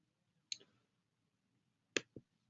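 A computer mouse clicks sharply a few times in a quiet room, one isolated click followed later by a quick pair.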